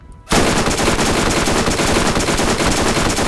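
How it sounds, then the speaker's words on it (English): Rapid, loud submachine-gun fire in Borderlands, a continuous automatic burst that begins abruptly after a brief quiet moment and holds steady to the end, with no talk. "This is just a good, powerful SMG"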